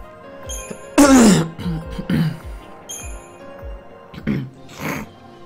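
During a Final Fantasy XIII game session, a person coughs and clears a phlegmy throat with a few short rough bursts, close to the microphone, amid game sounds.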